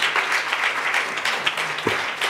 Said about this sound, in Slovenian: Lahko jim zaploskate, da se malce razmigamo.